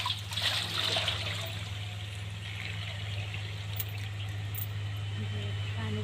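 Water is poured from a bucket on a village farm, making a steady trickle and splash over a low hum, with a voice faintly in the background.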